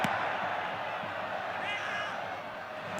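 A large football crowd of French and Croatian fans at a 1998 FIFA World Cup match roars as a broad, steady wash of noise in the stadium, with a commentator talking over it.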